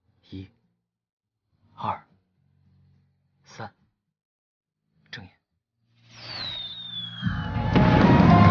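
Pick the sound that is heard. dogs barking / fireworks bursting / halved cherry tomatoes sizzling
fireworks bursting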